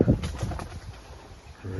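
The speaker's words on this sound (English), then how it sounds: "There's pigeons everywhere, so I've got to be careful not to disturb them if they're nesting." Pigeons coo from the trees around a newly moved-into house's garden with oak and birch, a low soft repeated call fairly near, with some background noise.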